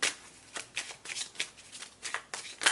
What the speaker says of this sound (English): A couple of cards coming out.